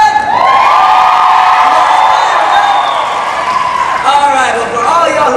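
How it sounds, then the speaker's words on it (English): Large audience at a soap opera talk show stage event at Disney's Hollywood Studios screaming, whooping and cheering loudly and continuously, with high shrieks rising and falling over a dense crowd roar. "they are standing by backstage to hear you guys scream for them"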